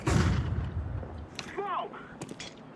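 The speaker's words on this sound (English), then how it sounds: "I'm throwing the flashbang." Flashbang grenade in the game CS2, a heavy low burst right at the start that quickly fades, followed by players' voices talking over the quieter game background.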